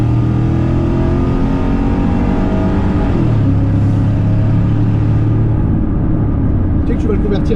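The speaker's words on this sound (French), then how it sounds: "Un petit kick down pour les oreilles." A Mercedes E430 engine roars through a kick-down, the revs climbing steadily before shifting to a lower, sustained drone, loud and close inside the cabin, with people talking over it.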